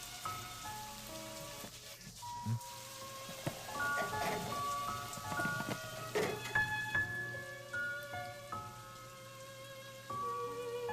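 Steady rain falls throughout, a broad even wash of patter, with melodic tones and a few voices above it.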